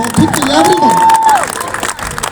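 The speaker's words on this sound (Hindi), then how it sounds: "खुद के लिए जोरदार तालियां, खुद के लिए एवरीवन" Students at a junior college event cheer and clap as a crowd, with a loud, drawn-out vocal shout rising above the noisy clapping before it settles into a lighter, continuous crowd din.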